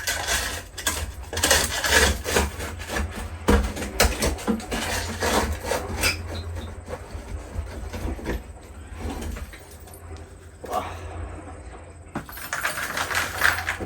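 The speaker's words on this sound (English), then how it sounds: "I'm going to move a little bit more wood that I've cut up." Cut-up firewood, split with a chainsaw, being moved by hand at a campsite, giving close, repeated knocks and scraping rubs of wood against wood in an irregular rhythm throughout, with a quieter stretch near the end.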